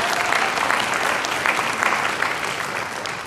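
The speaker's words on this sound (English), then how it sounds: "let's go ahead and give a round of applause for them" A university speech contest audience applauds the judges with a steady, full round of clapping from many hands that holds evenly for the whole stretch.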